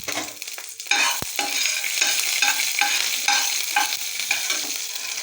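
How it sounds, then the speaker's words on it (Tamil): Mustard seeds and curry leaves sizzle and crackle in hot oil while being tempered for a banana flower chutney, with loud spattering pops, a sharp clink of a spoon and continuous frying hiss. "எண்ணெய் காஞ்சிடுச்சு. கடுகு போட்டுக்கலாம்."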